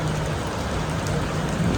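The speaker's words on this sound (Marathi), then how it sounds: "पुण्यामध्ये अचानक खूप जोरात पाऊस पडायला लागला आहे." Sudden heavy rain pours down in Pune as a dense, loud, unbroken hiss that fills the scene from start to end.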